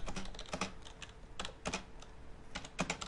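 Quick bursts of close computer keyboard typing as question text is entered into ActivInspire software, uneven clusters of clicky keystrokes with brief pauses and no voices.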